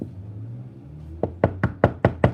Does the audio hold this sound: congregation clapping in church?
no